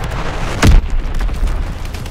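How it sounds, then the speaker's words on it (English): A Fritz X guided bomb explodes in Call of Duty: WWII multiplayer, one short, heavy boom that bursts out and fades over a steady background rumble of battle. "Fritz X-Bomb!"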